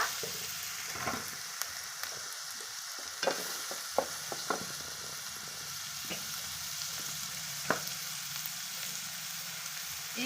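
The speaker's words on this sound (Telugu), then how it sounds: "అదే ఆయిల్లోకి ఒక నాలుగైదు ఉల్లిపాయలు సన్నగా కట్ చేసుకున్న ఉల్లిపాయ ఈ ఉల్లిపాయలు బాగా ఫ్రై చేసుకోవాలి" Four or five thinly sliced, salted onions fry in hot oil in a pan, giving a steady close sizzle broken by occasional clicks and scrapes of stirring, with no talking.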